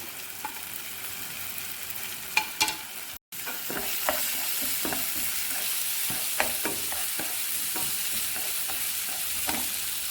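Tomatoes and chopped carrot fry in a pan for an egg rice dish while a spoon stirs them, giving a steady close sizzle broken by scraping stir clicks and one brief dropout.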